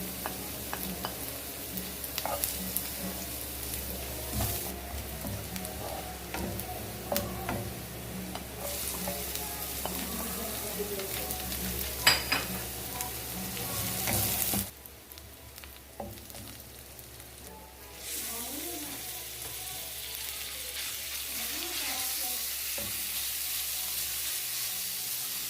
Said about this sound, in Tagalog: igigisa muna natin yung ground beef sa bawang at sibuyas